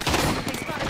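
Dense bursts of rapid gunfire from the battle royale video game Apex Legends, loud and close, with overlapping shots filling the whole moment during a fight.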